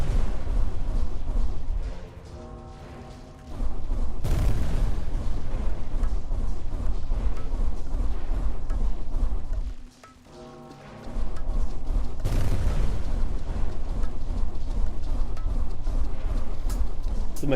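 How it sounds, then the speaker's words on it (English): Mortar, grenade and nuke explosions in Incremental Tower Defense, a dense, sustained rumble of booms with two sudden loud onsets and brief drops in between. "So my mortar's my big damager, my grenade's doing work, my nukes did a lot"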